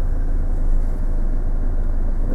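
A car's engine idles steadily during a driving lesson, a continuous low rumble heard from inside the cabin with no change in pitch and no talk over it.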